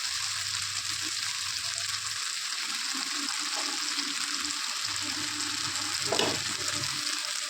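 A paste of cumin, ginger, green chilli and tomato frying with peanuts in a pan: a continuous bright sizzle that stays even and close, with a low rumble in the background for parts of the clip.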